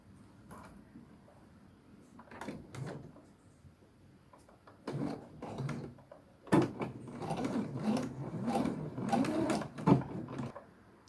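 A sewing machine stitches through slippery fabric in short, uneven bursts of mechanical whirring and clicking, with pauses between runs and louder, denser sewing in the second half, close to the microphone with no talk.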